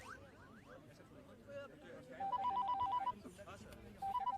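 A telephone rings with two bursts of rapid electronic trilling, heard alongside people talking in a film scene.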